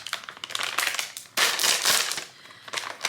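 A cereal-bag style plastic makeup pouch being torn and crinkled open by hand, close and crackly, with bursts of rustling and one loud rip near the middle.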